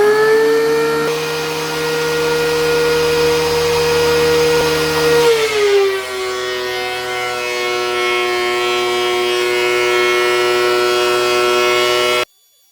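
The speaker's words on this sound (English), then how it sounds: "I planed them down quite a bit more than I actually needed to" An electric wood planer powered by a Cybertruck runs with a loud steady whine, then drops in pitch as it bogs into a board and holds a lower steady tone before cutting off abruptly.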